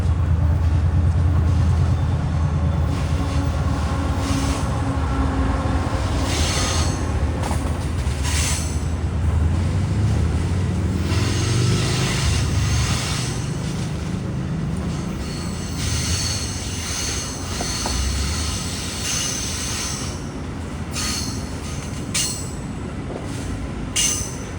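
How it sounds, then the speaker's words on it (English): A Via Rail Siemens passenger trainset rolls in on a rerouted line in Toronto, a steady loud rumble of wheels and cars with occasional flange squeals and clicking over rail joints, continuing throughout without talk. "we have a Via Rail Siemens set coming in"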